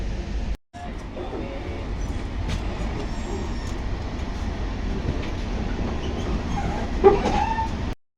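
The 13005 Howrah–Amritsar Mail rumbles steadily at Mughalsarai (Pandit Deen Dayal Upadhyaya) railway station, a continuous low roar of rolling stock with faint scattered station noises.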